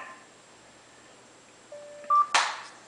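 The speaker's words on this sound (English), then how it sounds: "my cell phone's dying. I'm going to turn it off so it doesn't distract me anymore" Cell phone switching off: a couple of short electronic tones rising in pitch, followed by a brief bright chirp-burst, close and clear in an otherwise quiet room.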